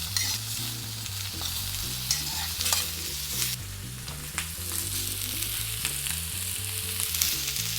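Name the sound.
steak searing in pan with onion and asparagus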